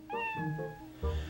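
A cat meows in the video game Zelda: Twilight Princess, inside a bar, two or three clear, close meows in quick succession with no talk over them.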